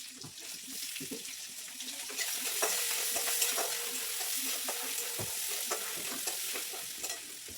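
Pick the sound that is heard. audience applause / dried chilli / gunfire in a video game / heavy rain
dried chilli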